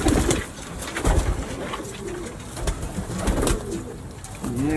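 A favourite female pigeon coos nearby in repeated soft, throaty bursts, several in a few seconds, over rustling and background noise.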